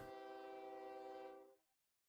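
A train horn from the video game OpenTTD, a single sustained tonal blast with rich harmonics that fades out after about a second and a half, followed by silence.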